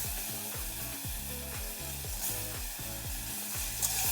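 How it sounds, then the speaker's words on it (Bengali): Whole coriander, cumin, pepper and tomatoes fry in a pan for a fish and cauliflower curry, giving a loud, continuous sizzle with rhythmic stirring scrapes repeating about twice a second, close up and without talk. "টমেটোগুলো একটু ভেজে নিচ্ছি"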